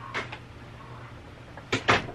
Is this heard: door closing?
yes